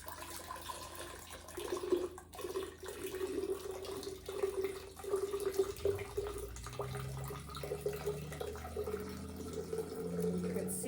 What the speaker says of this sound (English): I'm going to try to pour the water from the measuring cup into the